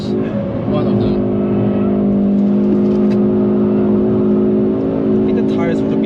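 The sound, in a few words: Hyundai i30N DCT engine at rev limiter, Nürburgring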